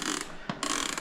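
A Baratza Encore coffee grinder being reassembled, with a short, close ratcheting click and a scrape of plastic parts sliding back into place.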